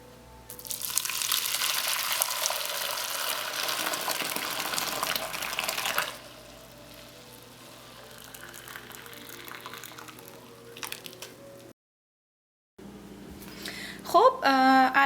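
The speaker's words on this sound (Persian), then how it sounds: "من این شیر رو از قابلمه درون یک کاسه میریزم" Boiled milk poured from a pot into a bowl for homemade yogurt, a steady rushing pour for several seconds that then thins to a quieter trickle, followed by brief kitchen clatter.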